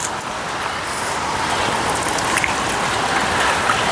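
Steady rain falls around a house in cold weather, a constant dense hiss of drops that grows slightly louder over time, with no voices.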